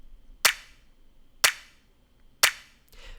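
Three sharp, bright clap hits from a music mix, evenly spaced about a second apart, each trailing off in a short diffuse echo tail, with a fourth softer hit cut off at the end.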